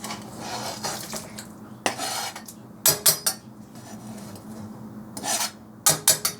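Utensil scraping and clattering against a pot while pickles and dill are stirred into a Polish pickle soup, with repeated rasping strokes and a few sharper metallic knocks, close and fairly loud.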